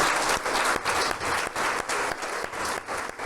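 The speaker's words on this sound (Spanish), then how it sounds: "Dele un fuerte aplauso al Señor." A church congregation breaks into loud, sustained applause, the massed clapping swelling in rhythmic waves with no talk over it.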